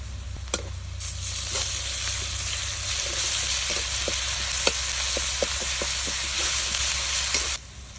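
Lightly fried onions sizzling in a pan as ginger and garlic paste are added, a continuous bright frying hiss with scattered small clicks of a spoon stirring, ending abruptly.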